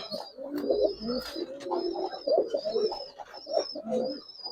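A pigeon coos in repeated low, throaty phrases, close and clear, while a thin high chirping runs above. The bird is a large, specially bred pair at a pigeon sale.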